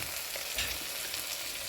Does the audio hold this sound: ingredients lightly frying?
yes